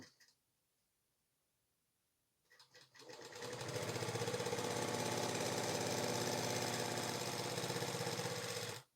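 After about two seconds of near silence, a sewing machine starts stitching a seam on a 40-inch blouse, its fast, even mechanical chatter running loud and close until it stops abruptly at the end.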